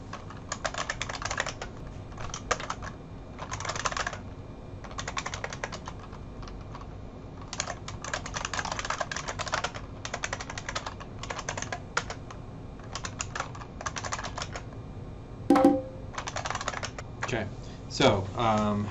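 Password being typed on a computer keyboard during a Linux login, with bursts of rapid, close key clicks separated by short pauses and a couple of louder thumps near the end.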